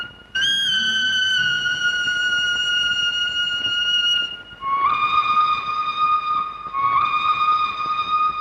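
A steam train's whistle sounds in sustained, harmonic-rich tones that shift pitch midway, woven into a Tamil film song, loud and continuous against the music.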